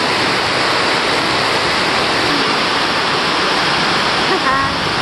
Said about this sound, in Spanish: ahí solo van a oír el sonido de la lluvia